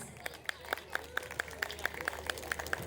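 Audience at an Indian wedding sangeet clapping in a steady, even rhythm, about four sharp claps per second, fairly faint and moderately distant over a quiet room.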